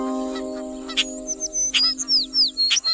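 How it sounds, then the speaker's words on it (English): A group of parrots chatters loudly close by, with sharp shrieks and quick rising and falling whistles repeating over a steady tonal background hum. "they saw a group of parrots twittering aloud"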